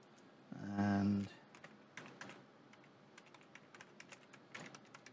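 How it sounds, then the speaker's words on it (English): Keystrokes on an unfamiliar computer keyboard while entering a login password, heard as sparse, fairly faint clicks spread over several seconds after a brief louder tonal burst near the start. "I think that was me typing on this non-familiar keyboard."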